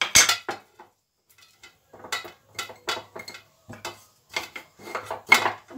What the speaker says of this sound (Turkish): Bu şekilde kavanozlarımızın tamamını dolduracağım.